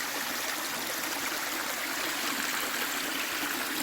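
A small creek flows over rocks along a hiking trail, a steady close babbling rush of water with no talk.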